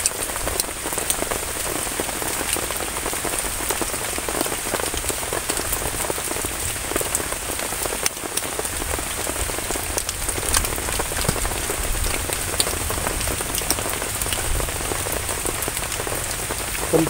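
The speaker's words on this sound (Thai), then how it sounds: "ยามฝนตกๆพี่น้อง" Steady rain pours down without a break in a forest during a thunderstorm, a dense patter of drops hitting leaves and ground, close and continuous.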